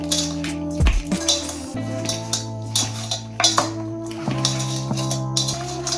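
Chicken being mixed by hand with oil, spices and a crushed Maggi cube in a bowl: soft wet squishing and occasional clinks against the dish over a low steady hum, close and moderately quiet, with no talking.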